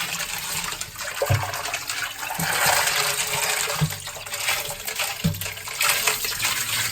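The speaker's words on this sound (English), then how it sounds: "then I'm going to rinse off the sides of the tank here." Running water rinses the sides of an aquarium fish tank in a constant close splash and rush, with occasional low thumps and knocks under the stream.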